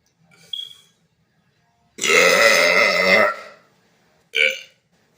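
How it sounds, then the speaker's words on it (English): Loud, extreme burping: a short belch, then a long rumbling one lasting over a second, then a final brief burp, close and alone. "I've been burping so long."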